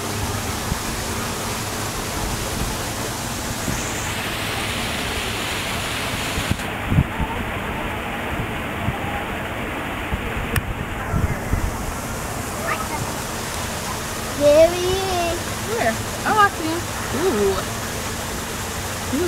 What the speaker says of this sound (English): And it is most certainly raining at this point.